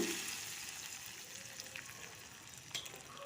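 Hot tempering being tipped into simmering methi (fenugreek leaf) sambar and stirred, a soft steady sizzle and bubbling with faint spoon scrapes, heard close and alone.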